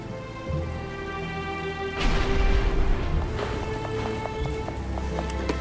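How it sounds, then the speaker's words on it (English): Steady rain falls in the Batman: Arkham Asylum video game, a dense continuous hiss with a louder burst partway through and faint clicking and chiming game sounds over it. "But it's starting to rain."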